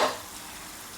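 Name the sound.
sauce simmering in a pan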